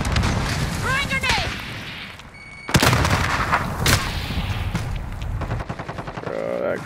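A grenade goes off in Call of Duty: Modern Warfare, a sharp broadband boom at mid-clip followed by further loud bangs and gunfire, mixed with game chatter, synthetic alerts and a voice talking throughout.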